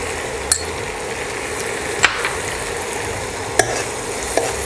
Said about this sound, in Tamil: இப்போது ஆனியன் உள்ளே போட்டிருக்கேன். அதை நல்லா ஃப்ரை பண்ணுவோம்.